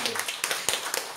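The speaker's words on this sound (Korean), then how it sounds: "우리 박수 한번 합시다" Brief clapping from a church congregation at a Sunday worship service, a few loose, uneven hand claps heard faintly at moderate distance for about a second.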